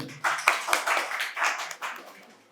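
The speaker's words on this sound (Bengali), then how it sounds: "জোরে হাততালি ওর জন্য" A quiz audience at a medical college event claps for a correct answer, scattered hand claps swelling into a short burst of applause that tapers off over a couple of seconds.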